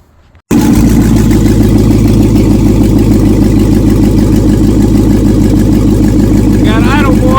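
A G20 van with an L33 5.3 LS swap engine starts and settles into a loud, close, steady idle with a rhythmic throb after a moment of near silence, and a brief voice rises over it near the end.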